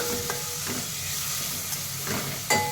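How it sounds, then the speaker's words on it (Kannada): Green paste with mustard seeds frying in a pan gives a steady, close sizzle, with a few stirring scrapes near the start, middle and end. No one speaks. "ಇದು ಚೆನ್ನಾಗಿ ಫ್ರೈ ಮಾಡ್ಕೋಬೇಕು."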